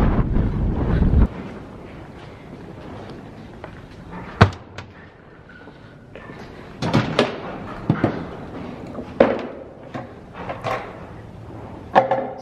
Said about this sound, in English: It's fucking windy today.